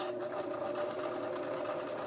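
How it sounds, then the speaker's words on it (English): A sewing machine stitches a cloth face mask with a rapid, even mechanical whir and ticking needle rhythm, close and continuous for the whole stretch. "to tie it off with a sewing machine, you basically want to sew forward, and then wherever your button is, to make it sew backwards"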